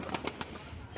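Pigeons, including a fantail female, make soft, quick repeated coos close by, with faint background noise.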